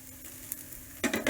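Moong dal, bajra and ragi chilla cooking in a pan, a faint steady sizzle that suddenly turns into loud bursts of frying and scraping near the end.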